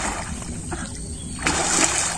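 Swimming in a village pond, close water splashes and sloshing that swell into a louder splatter near the end, over faint outdoor background noise.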